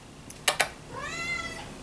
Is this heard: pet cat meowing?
yes